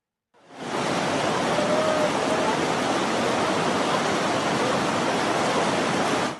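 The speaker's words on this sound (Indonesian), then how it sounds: "Menyeberangi sungai dengan arus deras" A fast, heavy river current rushes in a dense, steady roar that fades in at the start and holds loud and unbroken, with no voices.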